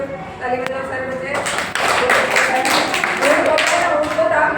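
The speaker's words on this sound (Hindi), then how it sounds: "नीचे में तो ताली बजाओ सारे बच्चे" A group of children in a classroom claps together on cue, a dense burst of applause that swells and keeps going, with a teacher's voice beforehand.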